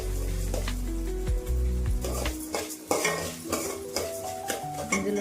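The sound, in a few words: coriander seeds being fried and stirred on low flame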